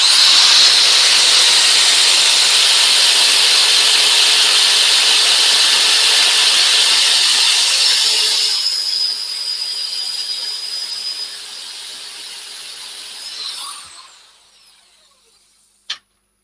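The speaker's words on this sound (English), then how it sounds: "I'll do a little bit more sanding on this sort of inner part here" Power sanding on the inner part of a wooden piece: a loud, steady high-pitched whine and hiss that holds for several seconds, then drops in level, fades out and stops with a final click.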